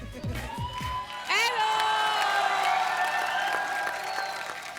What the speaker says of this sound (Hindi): तो जोरदार तालियां बजाएं किसके लिए?